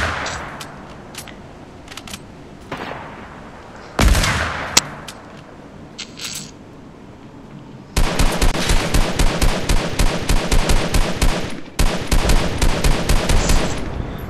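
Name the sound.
gunfire in the video game Fortnite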